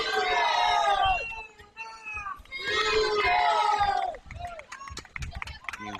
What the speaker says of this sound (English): You hear Boomer chants in the crowd.